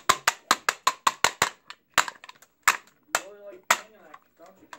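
Sharp, loud hammer blows strike an AR rifle handguard as it is forced on, a rapid run of about ten evenly spaced whacks, then scattered heavier hits, with a voice talking briefly near the end.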